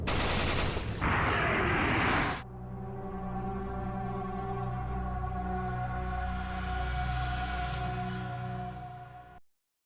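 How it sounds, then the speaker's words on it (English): Shots fired at a lake in the VR game Resident Evil 4 VR: a loud burst of rapid gunfire for a couple of seconds, followed by a sustained droning hum with steady tones that fades out. "You shoot that lake 6 times, no matter what you're playing on."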